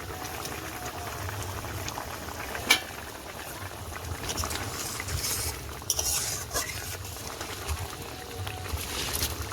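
Potatoes boiling in a covered pot on the stove, a steady low bubbling throughout with a couple of sharp clinks of the lid or utensils near the middle.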